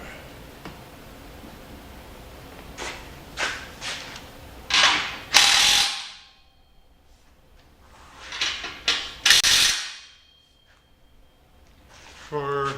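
A Harbor Freight Earthquake power tool tightens exhaust clamps on a Jeep Grand Cherokee EcoDiesel exhaust, with several rapid rattling bursts of hammering in short clusters separated by quieter pauses, fairly close.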